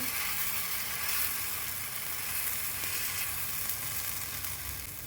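Jowar-bajra pudla cooking on a hot pan, a loud, close, continuous sizzle and crackle of frying that holds steady throughout with no voices.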